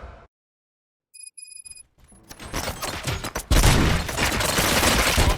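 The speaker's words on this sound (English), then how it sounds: "Gunshots?" Gunshots in the video game RoboCop: Rogue City: after near-silence and a few faint electronic beeps, a loud dense burst of rapid gunfire and impacts builds and keeps going.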